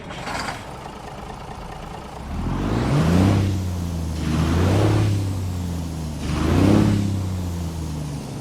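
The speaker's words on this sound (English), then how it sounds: "this Mack R is powered by a 350 horsepower Mack E6 engine, a straight pipe version" A 350-horsepower Mack E6 straight-pipe engine in a Mack R truck, as simulated in American Truck Simulator, revs up three times in deep rumbling swells that rise and fall over a steady idle.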